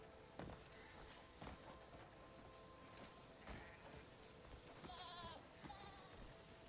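Faint goat bleats from the video game Crimson Desert sound a couple of times over a quiet hiss, with soft scattered footstep-like thumps and clicks.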